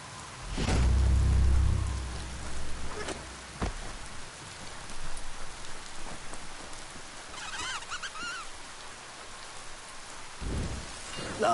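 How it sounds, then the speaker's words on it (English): Steady rain hisses throughout in the video game Biomutant, with a deep rumble of thunder early on and a few sharper cracks later, heard without talk. "The rain's making it slick out."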